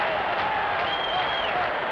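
A record crowd of more than 51,000 at County Stadium roars and applauds steadily at the 1975 MLB All-Star Game, a dense continuous wash of cheering.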